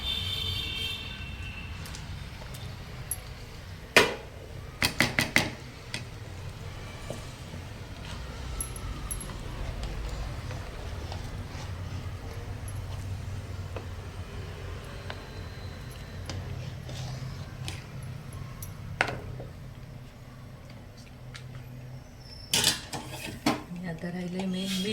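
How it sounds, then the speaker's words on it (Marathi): Food being stirred and mixed in a cooking pot, scattered metallic clinks and scrapes of a utensil against the pot over a low steady background hum, a few sharp knocks standing out. "आपण त्याच्यामध्ये चांगलं मिक्स करून घेणार आहे."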